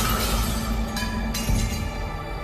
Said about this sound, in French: C'était un bruit de verre cassé.